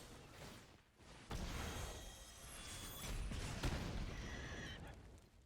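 Horse neigh sound effect from a digital card game, a brief whinny with a whoosh, over game music and effects, no talking.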